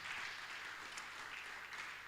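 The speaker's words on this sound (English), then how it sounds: "So a huge round of applause to the founders" Audience applause for startup founders at an investment summit demo day, a steady faint wash of clapping that continues evenly without pause.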